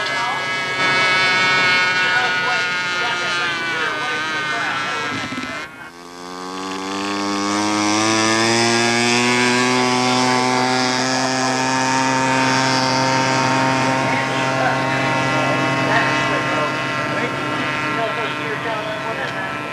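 A model Ki-61 Tony warbird, 86 inches and 15.5 pounds with an OS 108 engine, flies at a 1988 scale model competition, its steady high engine whine dipping briefly as it passes, then climbing back to a sustained drone.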